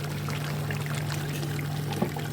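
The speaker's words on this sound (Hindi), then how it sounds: "अब यखनी थी वो हम इसमें शामिल करने वाले हैं" Beef stock (yakhni) poured steadily into a pot of beef paya curry, giving a soft, continuous trickling wash of liquid with a faint low hum beneath.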